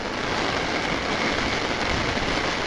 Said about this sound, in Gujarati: કેવો વરસાદ ભૂકા કાઢે છે